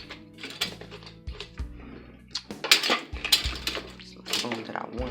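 Metal kitchen utensils clatter and clink as someone rummages through them looking for a spoon, with irregular close rattles over a steady low hum.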